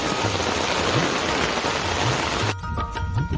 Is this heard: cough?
no